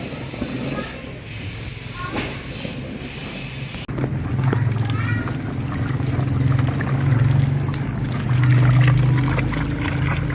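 Water gushes and splashes into an earthing pit dug for a solar wiring installation, a steady pour that swells louder in the second half, with faint background noise.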